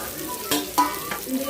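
Ground banana flower paste drops into hot oil in a pan, giving a brief sizzle with a few soft scraping stirs, close and alone.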